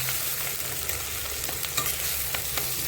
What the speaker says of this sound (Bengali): এখন এই মশলাটা ভালো করে কষিয়ে নেব